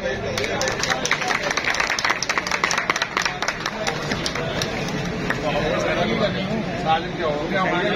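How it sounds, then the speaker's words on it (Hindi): Friends clap and applaud at a ceremony in Lahore where one ustad confers master status on another, a dense steady patter of many hands across the whole stretch, with crowd chatter and voices mixed in underneath. "सारे दोस्त तालियां भाई"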